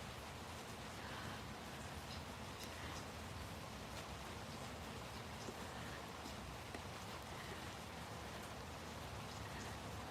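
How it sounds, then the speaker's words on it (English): Morning rain falls in a continuous, even patter, a broad steady hiss of drops on surfaces, close and unbroken throughout with no voices. "Yes, rain."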